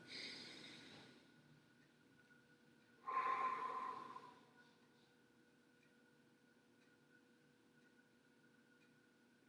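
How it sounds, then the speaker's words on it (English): A single slow, deep breath is drawn in and let out, soft and close in an otherwise hushed room with a faint steady background tone. "And another nice deep breath. And releasing that."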